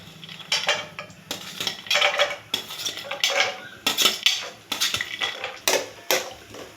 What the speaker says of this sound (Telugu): ఫస్ట్ కొబ్బరి ముక్కలు వేస్తానండి నేను, ఎందుకంటే ఇవి తొందరగా ఫ్రై అవ్వవు కాబట్టి.